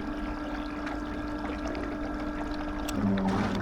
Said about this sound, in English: it will just travel, keep the engine going, keep the motor going